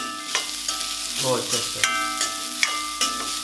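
Coconut pieces being stirred and scraped in a hot pan with a soft sizzle, spoon clinks recurring every half second or so.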